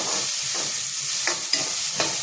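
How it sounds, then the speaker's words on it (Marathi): Chopped onions sautéing in a pan until pink, a steady close sizzle with a few soft stirring scrapes and no voices. "ते कांदे आपण गुलाबी होईपर्यंत परतून घ्यायचं"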